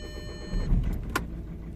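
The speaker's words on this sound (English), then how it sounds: "Okay, engine is running. It took a little bit because obviously there was no fuel on those high pressure pipes" Audi A3 1.6 TDI diesel engine cranking and catching to run after its high-pressure fuel pipes were opened, a short low rumble that swells and settles, with a brief mechanical whir partway through.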